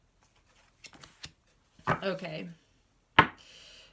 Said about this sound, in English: Spirit's wanting me to shuffle this a couple more times.